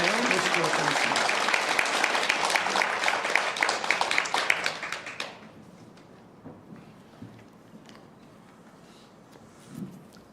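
A church congregation at a Korean Sunday service claps to welcome a missionary. The crisp, lively applause runs for about five seconds, then dies away into a quiet hall with faint, scattered sounds and a soft voice.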